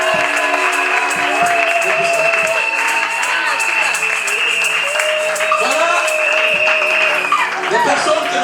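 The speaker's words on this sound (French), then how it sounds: "Pendant qu'il s'approche, on acclame le Seigneur." A church congregation at a pastors' consecration service claps and cheers in acclaim of the Lord, a continuous loud wash of applause and voices mixed with sustained music throughout.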